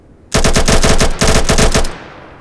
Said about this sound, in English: What's a short burst? Six bullets for a short burst?